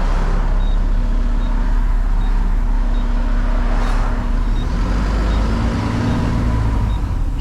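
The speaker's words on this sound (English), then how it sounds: "Gotta wait now, let this traffic go." Road traffic rumbles steadily past a waiting vehicle, a continuous loud wash of engine and tyre noise with no clear breaks.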